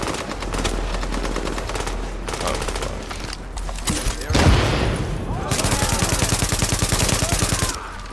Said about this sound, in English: Is that guy shooting at him?